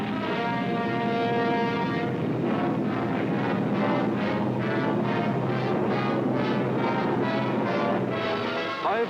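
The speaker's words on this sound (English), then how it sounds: "German bombers and Messerschmitt fighters roared over the English coast." German bombers and Messerschmitt fighter planes roar over the English coast during the Battle of Britain in World War II, a loud, steady droning engine roar with a faint pulsing throb that persists throughout.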